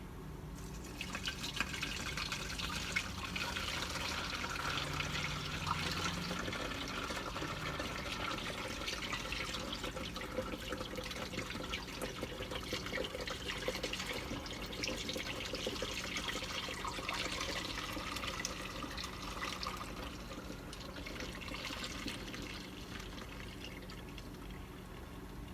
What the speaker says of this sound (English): The funnel in there, your strainer over here, and you just pour slowly.